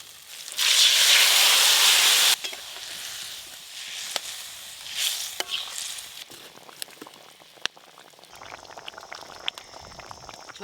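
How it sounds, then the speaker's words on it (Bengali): Curry gravy with potato and brinjal bubbles in a pot, a loud steady hiss for the first two seconds giving way to softer simmering with scattered pops and clicks. "ঝোল ভালো করে ফুটে গেছে"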